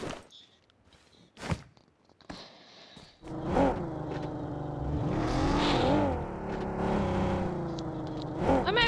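In a battle royale video game, a vehicle engine starts up after a few scattered thuds and then drives on with a loud, steady whirring drone that rises and falls slightly.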